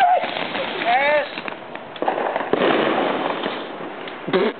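Fireworks and firecrackers going off outdoors, with bursts and crackling spread through the clip under loud excited talk and shouting from a group of people.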